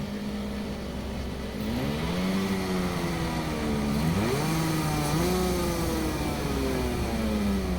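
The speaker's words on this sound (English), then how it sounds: "when I press down on this little adjuster, the idling calms down to where it should be." Mercedes-Benz W202 engine idling steadily up close with a continuous drone, its pitch wavering and dipping as the idle adjuster is pressed and the revs settle lower.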